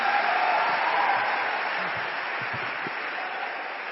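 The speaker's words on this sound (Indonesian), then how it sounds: "Ya Allah, yang tepuk tangannya keras" A big seminar crowd keeps up loud, continuous clapping that slowly fades a little, with a few faint low voices murmuring underneath the steady wash of hands.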